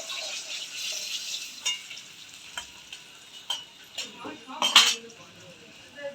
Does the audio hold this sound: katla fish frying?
yes